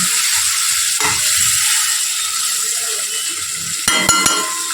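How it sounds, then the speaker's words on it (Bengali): Marinated chicken frying in a pan for biryani gives a steady hiss and sizzle throughout, joined near the end by a few sharp metallic scraping clicks from stirring. "চিকেনটা দিয়ে ভালো করে কষিয়ে নিতে হবে"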